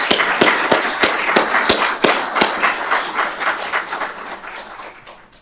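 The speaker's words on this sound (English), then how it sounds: "And give them a round of applause." Audience applause at a fire and rescue awards ceremony, steady clapping from a crowd that fills the room and gradually thins and fades toward the end.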